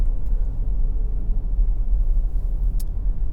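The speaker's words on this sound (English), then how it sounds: "But yes, we have wonderful traffic this morning." Steady low road rumble fills the inside of a moving car on a morning drive in traffic, a constant close engine and tyre drone with a faint brief click near the end.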